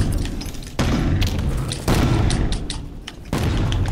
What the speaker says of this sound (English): who's up there chugging those grenades?